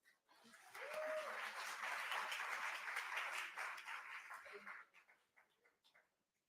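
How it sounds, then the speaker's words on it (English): Applause from an audience at a Lunar New Year celebration welcoming a performer, swelling quickly into dense clapping that holds for several seconds, then tapering off to scattered claps near the end, with a brief voice early on. "Please give a big round of applause for Kippy Marks."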